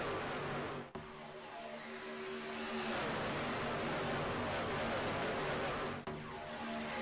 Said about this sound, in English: If you can even hear me with 40 engines ripping it around Talladega Superspeedway.